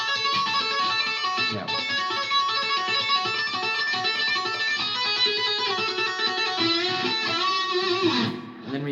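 An electric guitar plays the solo with unison bends, a continuous run of distorted, sustained lead notes that ends with a bend and a brief pause. A voice briefly speaks during the playing.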